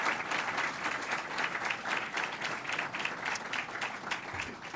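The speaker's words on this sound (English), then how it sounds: "Can we give a round of applause to Mr." An audience at a Congressional Iftar applauds, a dense, even burst of many hands clapping together that holds steady for a few seconds.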